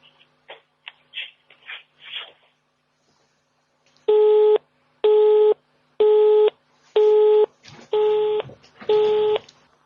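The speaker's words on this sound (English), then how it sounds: "the phone went dead" A telephone line goes dead after a call disconnects, with a few faint clicks and tones and then a busy signal of six loud, evenly spaced beeps, each about half a second long.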